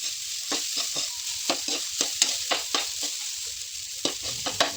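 Rice for garlic fried rice sizzles in a pan while a utensil scrapes and tosses it in quick, repeated strokes, close and fairly loud.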